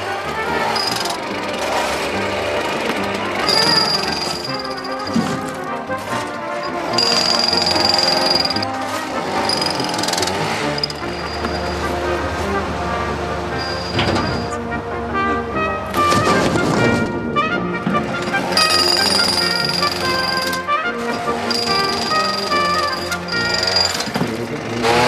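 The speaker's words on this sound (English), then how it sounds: "a sort of motorbike crossed with a pneumatic drill" A loud pneumatic drill breaking concrete slabs hammers in long bursts with short pauses, rattling and pounding close by, with debris clatter between runs.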